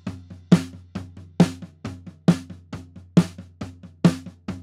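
A snare drum track picks up floor tom bleed: low, booming tom hits ring under a regular pattern of snare strikes, the deep tom tone clearly present through the track, with no talking.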